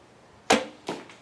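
Arrows fired from a 40 lb Wing Thunderbird bow strike an outdoor target: two sharp, close thuds about half a second apart, the first louder, with no voices.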